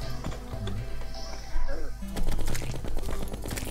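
Pistol shots ring out in the game Terraria, several sharp cracks landing from the middle onward amid busy game music and effects, with voices talking at times.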